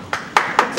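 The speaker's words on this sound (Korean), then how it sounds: "수고한 이민재 씨에게 박수를 드립니다" Scattered handclaps from a small audience at an evening event, a few separate sharp claps spread out rather than a full ovation.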